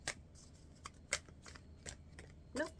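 Playing cards are shuffled and riffled in several quick, crisp bursts, quiet and close, with no talking.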